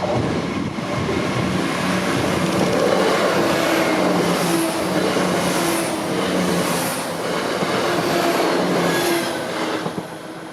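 A pair of British Rail Class 168 diesel trains rumbles loudly past a level crossing, a steady close roar with rhythmic wheel clatter and some squeal building and fading over ten seconds.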